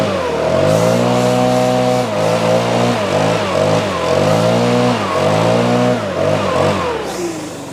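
A leaf blower clearing leaves out of a mulch bed, its small engine whining loudly and close by, surging up and down in pitch in repeated bursts throughout.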